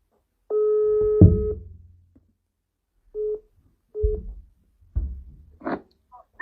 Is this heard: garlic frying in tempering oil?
no